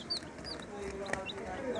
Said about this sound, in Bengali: এই মুরগিগুলোর নাম হলো টাইগার মুরগি